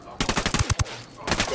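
Rapid bursts of automatic gunfire from the video game Ghost Recon Wildlands crack close and loud in two clusters with a short gap between, and faint game voices sit under the shots.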